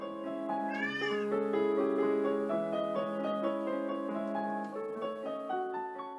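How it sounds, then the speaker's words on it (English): A cat meows repeatedly along with piano music, its rising, wavering cries sitting up front over steady sustained piano chords throughout, with no talking. "That's her playing, and her cat is singing along."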